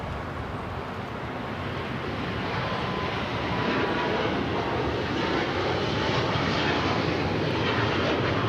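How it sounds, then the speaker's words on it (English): A China Eastern Airlines Boeing 777-300ER takes off from LAX, its jet engines rising from a distant rumble into a steady, growing roar that holds loud to the end. "This is China Eastern Airlines 586 taking off to Shanghai on the 777-300ER"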